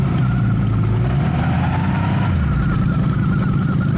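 A motorcycle engine at the Goodwood Festival of Speed idles steadily and loud up close, with a low rumbling throb throughout and slight rises in pitch as it is revved, no talk over it.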